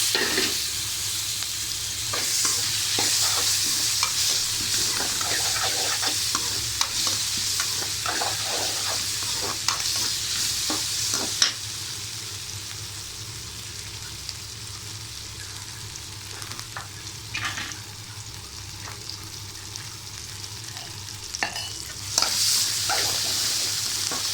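Tomato sizzles in a pan with raw banana as a spoon stirs it, a continuous close frying hiss broken by frequent scraping and clinking strokes.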